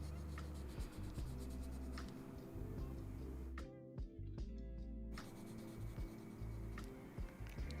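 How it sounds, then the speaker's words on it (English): A pencil scratches across paper during colouring, giving soft, quiet strokes in a steady rhythm with a brief pause midway, close and gentle, with no talking. "Listening to the pencil scritches."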